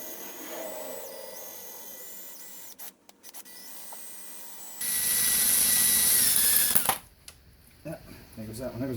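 A power drill on a 2009 Pontiac G5 bores out a broken transmission-pan bolt, with stop-start whining bursts and a louder, harsher grinding stretch midway before it cuts off.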